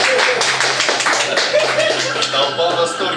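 An audience claps at a Russian literary reading event, a fairly loud, dense patter of many hands running throughout, with voices talking over it.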